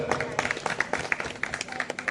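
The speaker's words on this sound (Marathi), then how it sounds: "या भजन रसिकांसाठी माझ्या मंडळीने एकदा जोरात टाळ्या वाजवा" A bhajan audience claps together, a dense patter of many hands in a short, lively burst with no voices over it.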